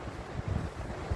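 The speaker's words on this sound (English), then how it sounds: "it's windy though" Strong wind gusts at the seafront buffet the microphone, a rough low rumble with pulsing surges, close and loud with no voices.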